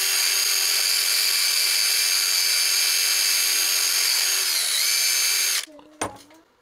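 A low-speed drill spins a wire wheel against rusty metal on a Diacro finger brake, a sheet metal brake, making a loud, steady whining scrub close up. It cuts off near the end, followed by a couple of brief knocks.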